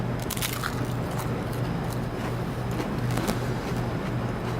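Crisp waffle cone, kept in its box for five days, crunches in a steady run of close, loud bites and crackles for several seconds, with no talking.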